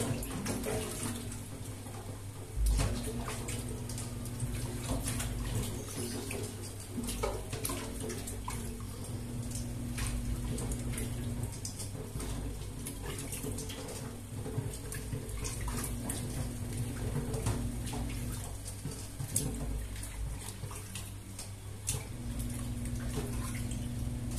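Newly bought eggs are washed under a running tap before going into the fridge, a steady close rush of water with splashes and faint handling clatter for the whole stretch, no voices.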